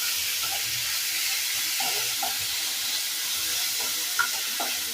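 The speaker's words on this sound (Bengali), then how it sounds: "পেঁয়াজটাকে একটু ভালো করে ভেজে নেব।" Onions sizzling in a pan with cumin seeds for a Bengali egg curry, a steady bright hiss with occasional soft stirring scrapes and pops, close and continuous with no talking.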